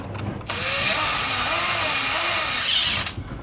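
A power drill drives screws during an XTRXL installation, one steady, loud whirring run of about two and a half seconds that starts and stops abruptly, with brief background noise before and after.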